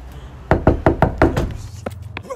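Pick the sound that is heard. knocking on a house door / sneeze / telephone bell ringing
knocking on a house door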